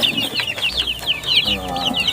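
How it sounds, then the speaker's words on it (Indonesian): Free-range village chickens clucking on a spacious fish-farm plot, a string of close, steady calls with a faint rooster crow mixed in, heard without any talk. "ayam kampung juga ada di sini ya"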